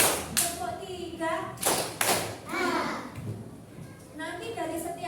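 A class of children claps together on cue in short rhythmic bursts of sharp hand claps, close by and mixed with a teacher's voice and children's chatter.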